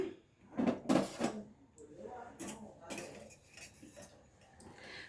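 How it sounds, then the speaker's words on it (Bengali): A fork clinks against a bowl while lifting chicken nuggets coated in egg and milk batter, a few quick close metallic taps followed by softer scraping, fairly quiet. "কাঁটা চামচে করে আমি তুলবো, দিয়ে এটা দিয়ে দেব ব্রেড ক্রাম্বসে।"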